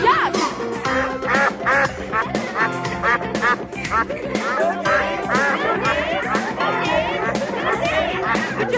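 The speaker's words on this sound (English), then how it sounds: "Dave the Dancing Duck." A cartoon duck quacks repeatedly on a children's zoo TV show, with loud hip hop music and lively voices throughout.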